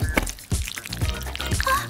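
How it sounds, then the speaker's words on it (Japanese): Leftover shampoo is poured and squeezed out during a baby's hair wash, giving a few short wet glugs and drips close by against a busy background. "残ったシャンプーを使って"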